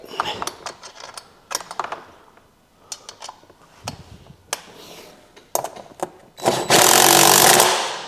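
A hand wrench tightening a bolt during wheelbarrow assembly gives a series of short metallic clicks and ratcheting bursts spread through the clip, ending in a longer loud scraping, rattling burst near the end.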